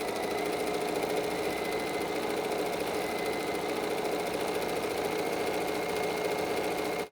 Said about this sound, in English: now I'm going to take this to the machine and I'm going to stitch here to here